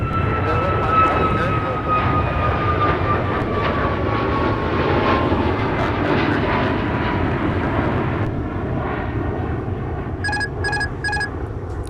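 Delta airliner jet engines at Minneapolis–St. Paul airport make a loud, steady roar with a slowly descending whine that eases off, followed by a short burst of rapid electronic beeps near the end.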